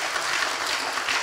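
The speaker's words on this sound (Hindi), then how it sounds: "क्यों नहीं हम लोग ताली बजा कर एडियल को" A church congregation at a Sunday Hindi service claps for a young drummer named Adiel, a brief dense burst of steady applause filling the room.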